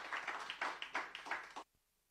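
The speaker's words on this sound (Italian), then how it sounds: "facciamo un applauso ancora, Sandro Gomez." Brief burst of applause for a guest, Sandro Gomez, on a TV show: a small group clapping in quick uneven rhythm for about a second and a half, then stopping abruptly into near silence.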